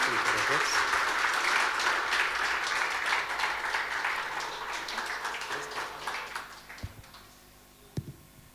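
An audience at a music festival applauds loudly, dense clapping that fills the first half and gradually thins and fades, ending with a few scattered knocks.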